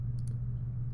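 A computer mouse clicks twice in quick succession and then once more at the end, crisp and close over a steady low electrical hum.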